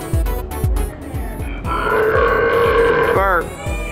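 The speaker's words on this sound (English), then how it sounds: "Burp." A burp sound effect plays from a hands-on science museum exhibit, one long drawn-out belch rising loud over steady rhythmic thumping and crowd noise, ending in a short warbling tail.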